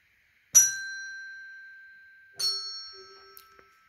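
A pair of pitched percussion notes, sol then mi, rings out in turn for a school ear-training exercise, each tone struck cleanly and left to fade, with a few faint taps near the end.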